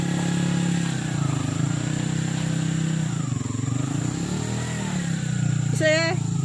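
A motorcycle engine runs steadily on a narrow road lined with trees, a continuous mid-pitched drone that holds loud throughout with slight swells in revs, and a brief chirping sound near the end.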